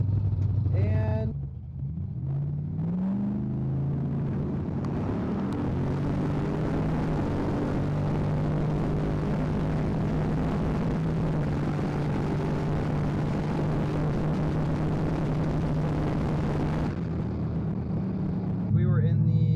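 A drag car with a custom Edge Racing torque converter launches at 3,400 RPM on a quarter-mile pass. A brief rising rev gives way to a loud, steady engine roar that holds for about fifteen seconds before dropping off.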